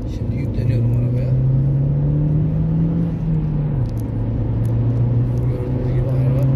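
Opel Astra J 1.4 turbo car accelerating strongly from inside the cabin, a loud steady engine drone rising in pitch, dipping briefly with a gear change around the middle, then pulling on again.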